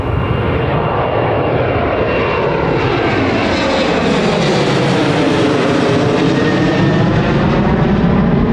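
Emirates jet airliner at Newcastle Airport, its engines roaring loud and steady, a broad continuous rumble and whine that swells slightly as the aircraft moves, with no talking.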